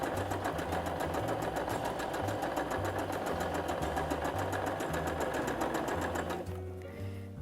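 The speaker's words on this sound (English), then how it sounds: "Always start sewing clothes with some reversing because you don't want it to unravel as you wear it" A sewing machine stitches a trouser seam with steady, rapid needle clatter that runs continuously at close range, then slows and softens near the end.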